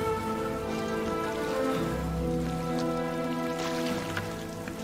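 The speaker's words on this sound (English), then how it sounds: "It's pissing it down." Heavy rain pours down on a rocky island, a steady patter and hiss of drops with a low trickling undertone, moderately quiet and without speech.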